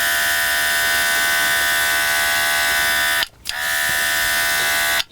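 Close, steady hiss of an airbrush spraying acrylic weathering paint onto a 3D-printed model wagon, running continuously with two brief cut-offs as the trigger is released, loud and alone without talk.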